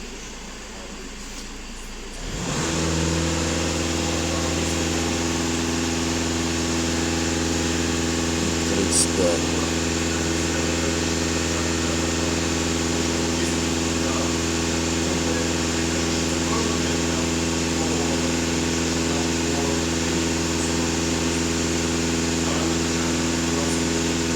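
A Volkswagen Passat B8 diesel engine starts and settles into a steady, even idle, a close, continuous hum with a constant low drone that holds unchanged for over twenty seconds.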